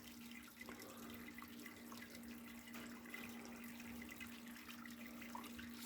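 Wort for an American Pale Ale trickles and flows steadily during filtration in home beer brewing, a faint, continuous watery stream with a low steady hum underneath and no talking.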